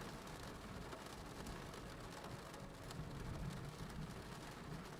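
Steady rain falls on a surface, a dense, even hiss with low rumble throughout, loud and close with no voices.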